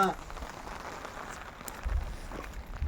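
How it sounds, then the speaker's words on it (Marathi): Light drizzling rain falls steadily on an outdoor surface at a college campus near Kalwati dam, Ambajogai, a soft continuous patter with faint low rumbles. "अशा पडत असलेल्या पावसात रिमझिमणाऱ्या पावसात"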